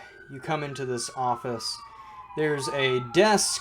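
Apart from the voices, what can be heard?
sirens of emergency vehicles passing outside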